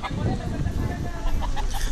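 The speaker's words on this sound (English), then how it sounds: "There's Mr. Rooster that I've been talking about." A rooster clucks a few times nearby in Maui amid background noise, short low calls in quick succession.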